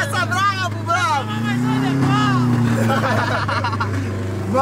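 A Chevette car drifting at the Londrina racetrack, its engine roaring loud and near, rising and falling beneath excited crowd voices and shouting.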